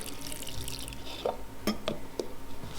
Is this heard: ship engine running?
no